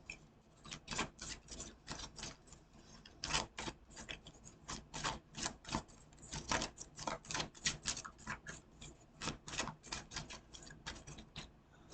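Tarot cards being shuffled and handled, a quick run of soft papery flicks and riffles in a rapid irregular rhythm, close and quiet with no talk.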